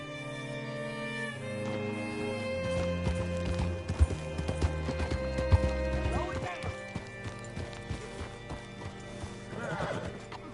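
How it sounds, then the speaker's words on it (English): Horse hooves clip-clopping at a steady walk with a whinny, set against a music score and ambience, with scattered footfalls and faint background activity. "Hitch your horse up here."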